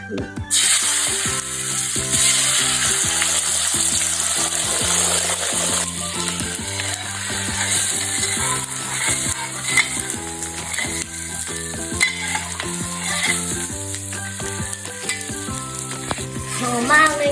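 An egg frying in a pan gives a steady, close sizzle and crackle that runs the whole time beneath continuous background music, with no talking.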